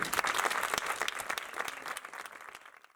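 Applause from a small audience at a poetry, storytelling and music gathering in a courtyard, steady dense clapping that gradually thins and fades out over a few seconds.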